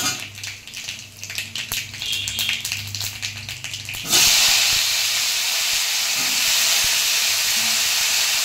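Mango pieces frying in hot oil with black mustard seeds, for a mango dal: a clear, loud, steady sizzle and hiss that erupts suddenly midway and then holds, after quieter stirring taps and clatter.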